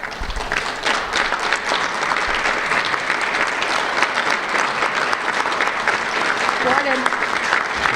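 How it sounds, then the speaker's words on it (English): Sustained, loud applause from a standing audience at a conference brunch, dense clapping that holds steady from start to finish, with a brief spoken name near the start. "let the audience thank you with sincere applause"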